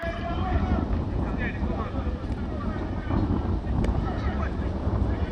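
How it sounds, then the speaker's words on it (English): Strong wind buffets the microphone at an outdoor football pitch during a Portmore United versus Vere United match at the Center of Excellence, a steady low roaring rumble that swells and eases throughout. "Real windy conditions here"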